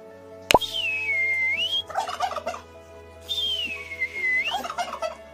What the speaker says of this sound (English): These turkeys are so funny.